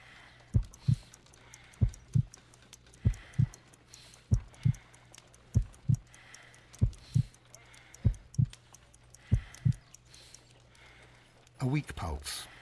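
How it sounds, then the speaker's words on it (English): A slow, heavy heartbeat thuds in paired beats at a steady rhythm in the game Sherlock Holmes: Crimes and Punishments, close and distinct, before a brief burst of other sound at the end. "I need to concentrate and count the heartbeats."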